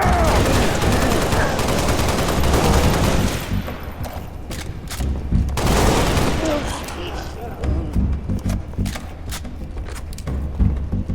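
Gunfire from the video game Halo: Reach bursts in rapid automatic volleys, loud and close, dense at first and then breaking into scattered separate shots, with game voices and low rumbling effects underneath.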